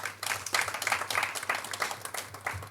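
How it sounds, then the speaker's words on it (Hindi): A church congregation claps to welcome guests from another church during a Good Friday service, with moderate, uneven applause of scattered hand claps lasting a few seconds, an electrical hum beneath it. "उनका भी हम जोरदार तालियों से स्वागत करते हैं"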